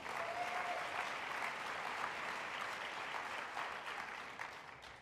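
Audience applause at an event on scaling solutions to food waste, a continuous, even patter of many hands clapping, moderately distant and steady throughout with no voices.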